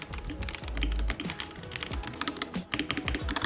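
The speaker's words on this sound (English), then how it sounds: "Here's what the gaming keyboard actually sounds like first." Fast, continuous typing on a 68HE magnetic-switch gaming keyboard, a dense stream of crisp, close key clacks and thocks with no voices.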